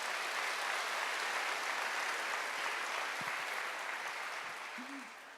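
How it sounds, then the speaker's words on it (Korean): Congregation applauding in a church service, a steady wash of clapping from many hands throughout, fading slightly toward the end. "우리 12사도들을 위해서 박수 한번 쳐주십시오."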